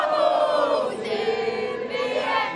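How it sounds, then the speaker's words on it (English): Tens of thousands of football fans cheering and roaring together in a stadium, a dense sustained crowd noise that swells and dips. "taking the applause from the tens of thousands of fans"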